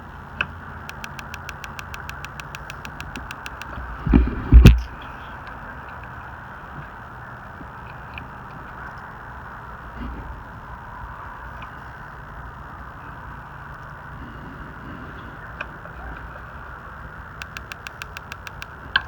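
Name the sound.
Mr. Heater Buddy Flex propane heater running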